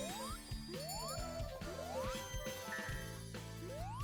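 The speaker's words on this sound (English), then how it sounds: "I'm gonna get these bells" Bright chiming jingles from collecting bells in the video game Sonic Generations, repeated rising tinkles over busy game music.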